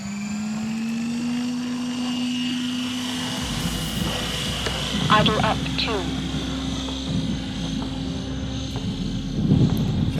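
An XLPower 550 RC helicopter flies nearby with a steady rotor and engine drone that holds throughout, rising in intensity briefly mid-flight, while someone speaks over it.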